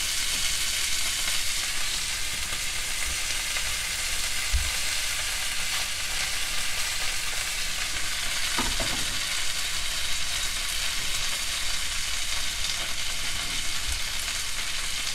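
A T-bone steak sears in a hot pan, giving a loud, steady, dense sizzle and crackle that runs unbroken throughout, with no voices.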